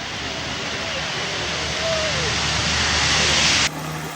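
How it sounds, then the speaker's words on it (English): Aircraft engine roaring steadily and loudly during a takeoff run at the Biggin Hill Air Fair, a continuous broad drone that cuts off abruptly near the end. "Now starting the takeoff run."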